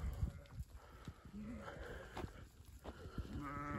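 Sheep out on spring pasture beside a stream, bleating a few times amid steady outdoor noise and light movement, fairly close.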